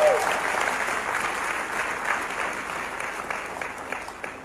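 A congregation applauds steadily in a newly built church auditorium, a dense wash of many hands clapping at even loudness throughout, with some faint voices mixed in.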